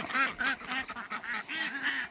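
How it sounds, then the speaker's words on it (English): Ducks being let out of their pen on a farm, quacking and honking in a loud, continuous stream of overlapping calls close by. "All right, ducks, I'll let you out."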